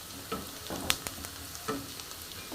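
Onion fries in a pan while cauliflower sabzi is being cooked, giving a steady low sizzle broken by several spoon scrapes and taps against the pan, one sharp clink among them, close up with no talking.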